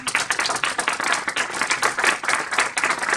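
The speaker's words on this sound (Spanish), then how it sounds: "un aplauso." An audience at a university doctoral thesis defense in psychology applauds as the candidate enters the room, a close, dense crowd clapping that swells and dips in quick waves.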